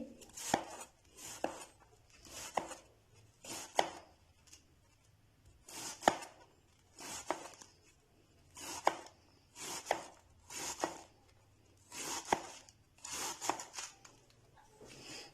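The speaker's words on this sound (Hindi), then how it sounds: "सबसे पहले हम जो है वो बंद गोभी को बारीक बारीक काट लेंगे।" A knife slices finely through cabbage for KFC-style coleslaw, about a dozen crisp, crunchy strokes in an uneven rhythm, each ending in a tap on the board, close and fairly quiet with no speech.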